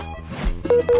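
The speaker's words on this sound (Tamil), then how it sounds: "ஐயோ ஃபோன் சுவிட்ச் ஆஃப் ஆகுதே." A mobile phone plays its short switch-off tone, two quick rising beeps close up at the end of a brief moment.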